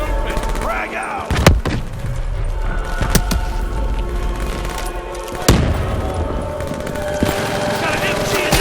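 Machine gun fire and booming explosions in a Call of Duty Black Ops 3 battle scene, dense bursts and heavy thuds over a continuous roar of combat, with shouted voices mixed in.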